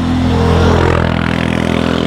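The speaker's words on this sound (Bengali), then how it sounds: "এখানে এরকম গাড়িগুলো চলে প্রচণ্ড বিকট শব্দ করে" A loud vehicle engine revs with a throbbing rumble on snowy ground at Doodhpathri, Kashmir, in rain, a close, steady pulsing drone throughout.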